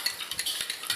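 Salt being stirred into water in a bowl to dissolve it for pickled cabbage, a soft continuous swishing with faint light clinks, close and quiet.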